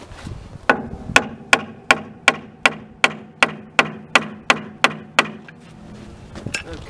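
Copper hammer or brass bar beating on metal while restoring a J&L 58 rolling ingot, about fourteen sharp ringing strikes in a steady even rhythm, close and loud, then a pause and a faint final tap.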